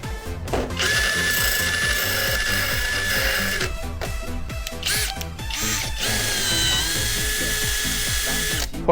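Power drill boring out a stripped screw at home, a loud close whine that surges and stops in several bursts with grinding, ratcheting bites in between.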